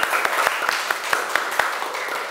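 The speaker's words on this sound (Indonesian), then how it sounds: "Tepuk tangan." A small group applauds in a classroom, producing sharp, evenly spaced claps in a quick steady rhythm for about two seconds, close and fairly loud.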